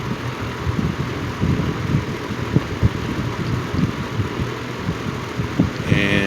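A Lakewood X 22 box fan motor running steadily, a low, even hum with a faint rhythmic throb from vibration, continuous and close with no voices.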